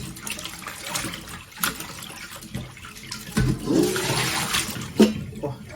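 Flower mushrooms rinsed under a running kitchen tap, a steady close splash and gush of water that swells midway, with a brief voice heard over it.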